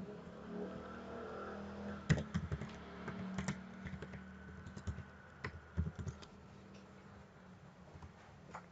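Computer keyboard typing during JavaScript/Node.js coding, with quiet irregular key clicks and a few firmer taps, close and soft, with no talking.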